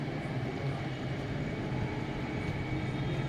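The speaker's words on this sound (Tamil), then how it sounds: "ஃப்ளைட் வர சத்தம் கேட்குது பாரு." A steady, loud, broadband roar of an airplane approaching to land at Trichy International Airport fills the whole stretch, constant and droning with no pauses.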